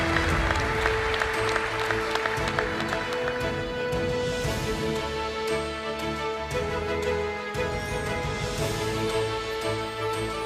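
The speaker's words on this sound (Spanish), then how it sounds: "Un aplauso fuerte, que no decaiga." A crowd at a national canoeing gala gives loud, sustained applause, dense clapping with a few voices and background music mixed underneath, continuing strongly throughout.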